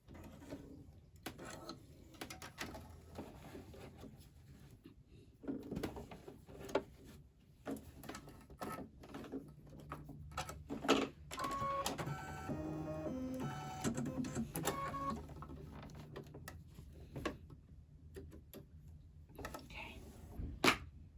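An embroidery machine stitching out a turkey-themed mug rug, a fast steady mechanical whirring and needle chatter running throughout at moderate volume, with a few faint clicks and brief pauses.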